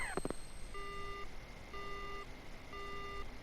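Phone line going dead in the horror visual novel Death Mark: a brief crackle, then three evenly spaced electronic disconnect beeps over a hissy background.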